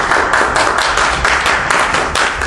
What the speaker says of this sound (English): A little of applause there.